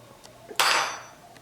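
A metal grilling grate is set onto the rack of a La Nordica America cookstove, landing with one sharp, close metallic clank that rings and fades over a moment amid light handling noise.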